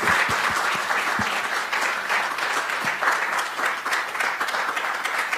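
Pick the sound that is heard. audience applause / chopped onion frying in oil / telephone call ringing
audience applause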